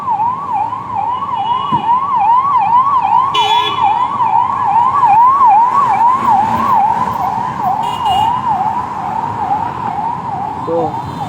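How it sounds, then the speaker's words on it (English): A wailing ambulance siren on Linking Road, Bandra, sweeps up and down steadily for the whole stretch, loud and close, over a constant bed of road traffic noise. "And that's an ambulance."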